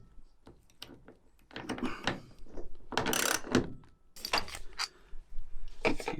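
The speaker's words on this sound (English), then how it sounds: "We're going to use 17mm socket." A 17mm socket ratchet works on a VW T4 during seatbelt and ignition lock repair, giving bursts of quick metallic clicking and clattering with short pauses between strokes, close by.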